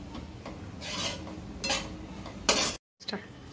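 Onion, ginger, garlic and chilli paste being mixed in a vessel, with three bursts of scraping and rubbing against the container and a couple of lighter taps, close, separated by quieter stretches and a brief dropout.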